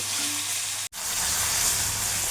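Rui fish pieces fry hard in mustard oil after being flipped, producing a loud, dense sizzle up close that cuts out for an instant before carrying on.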